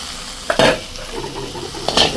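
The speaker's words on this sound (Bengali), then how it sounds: "নুন দিয়ে হলুদ দিয়ে বেগুনটা ভেজে নিলাম" Eggplant fries with salt and turmeric in a pan, a steady low sizzle broken by two sharp bursts of metal utensil clatter against the pan, heard up close without talk.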